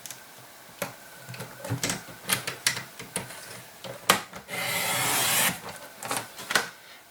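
A piece of red paper is cut to size for a card base, with a string of sharp ticks and clicks, then a sustained scraping slide of about a second, and more taps afterward.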